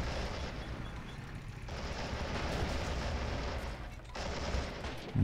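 Gunfire from a T-60 light tank in the Men of War: Assault Squad 2 battle game, heard as dense, continuous bursts of shooting and battle noise with a brief dip near the end.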